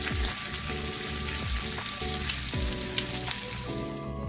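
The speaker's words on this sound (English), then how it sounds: "Place the bacon in the pot to fry." Bacon frying in a pot, a loud continuous sizzle and crackle with periodic scraping or stirring sounds repeating about every second, with no speech.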